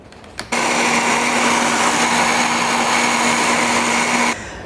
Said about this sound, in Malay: terus saja kita boleh kisar cili ni menggunakan pengisar yang basah begini